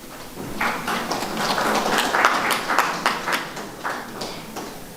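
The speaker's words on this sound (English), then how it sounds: "Another round of applause." An audience claps steadily throughout at an annual general meeting of Air Zimbabwe, a dense, even wash of many hands with no lulls.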